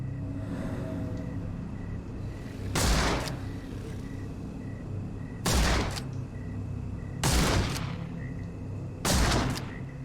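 Four separate loud gunshots, evenly spaced a couple of seconds apart, in Sherlock Holmes The Awakened, each a sharp crack over a steady low outdoor ambience.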